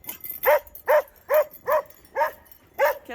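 A dog playing in a blizzard gives six evenly spaced, moderately loud barks, close and clear against quiet snowy background.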